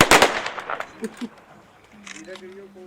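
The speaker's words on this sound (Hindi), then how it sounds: "एक राउंड मार फायर" A funeral gun salute rings out in a sharp, loud burst of rapid shots at the start, then fades into scattered fainter cracks, with voices calling out and a horn-like tone near the end.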